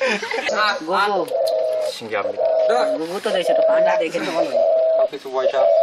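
A caged decoy bird in a bird trap in Bangladesh gives repeated cooing calls, with someone talking over and between the calls throughout.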